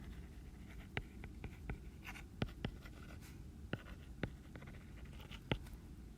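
Pen writing on paper while working a math problem on graph transformations: close, quiet scratching strokes with sharp taps as the pen hits the page, spread irregularly across the moment with no talking.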